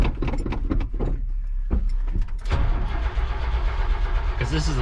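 An OBS-generation Chevrolet Silverado pickup with a suspected fuel pump fault cranks repeatedly without catching, a loud, close, steady churning of the starter and engine that runs for the whole stretch.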